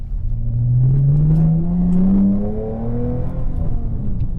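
A Dodge Challenger HEMI V8 engine with an 80mm throttle body revs loudly and steadily, its pitch climbing as it accelerates, then easing off into a rumbling idle.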